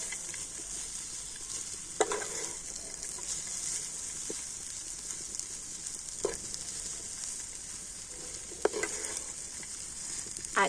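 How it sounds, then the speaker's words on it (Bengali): A besan and milk mixture with fried dry fruits is stirred in a pan, giving a soft continuous sizzle with a few distinct scraping strokes and clinks, quiet and close, no talking. "ড্রাই ফ্রুটগুলো দিয়ে আবার একটু সমস্ত কিছু ভালো করে মিশিয়ে নেবো"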